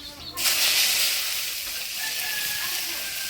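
Leafy greens drop into hot oil tempered with dried red chilli, kalonji and cumin, setting off a sudden loud, steady sizzle that hisses on close by.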